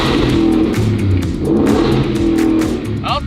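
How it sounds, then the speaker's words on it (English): A mini Ford Raptor with a twin-turbo V8 is revved a couple of times, the engine note rising and falling in loud, close swells over a deep rumble, ending with a brief high whine. "So now's the time to see like what it sounds like with a couple little revs."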